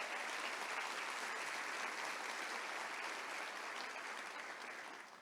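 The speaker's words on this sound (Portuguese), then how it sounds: "pode aplaudir ao Senhor." A church congregation claps together in a sustained, dense round of applause that holds steady and fades slightly at the end, heard from within the room.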